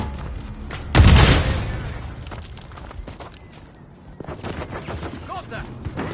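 Gunfire in the video game Modern Warfare III: a loud, close burst of shots followed by scattered smaller reports and rattles, with shouted game voices around it.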